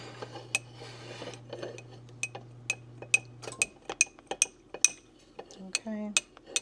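A spoon stirs homemade elderberry syrup in a pot, giving sharp metallic clinks and scrapes at an irregular pace against a low background hum that drops out partway through, close and fairly quiet.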